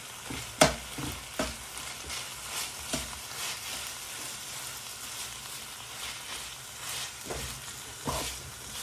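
Onion and green chili sizzling in a pan for kottu roti, a steady close frying hiss broken by several sharp scrapes and clanks of a utensil stirring, with no voices.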